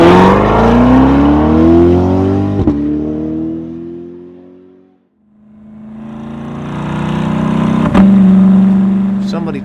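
A Chevrolet Corvette C8 fitted with a Borla exhaust revs hard on a racetrack, its loud engine note climbing in pitch, easing off to near quiet midway, then building again into a strong, sustained roar.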